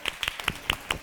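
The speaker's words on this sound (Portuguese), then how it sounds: "Palmas para ela!" Hands clap in a slow, even rhythm, five or six distinct claps close by at a storytelling event, with little else around them.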